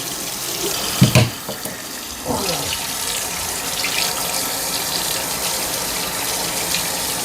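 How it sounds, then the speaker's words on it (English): Water running from a tap into a kitchen sink, a loud steady hissing stream close by, with a brief clatter and gurgle near the start before the flow settles. "Just rinse that down the sink."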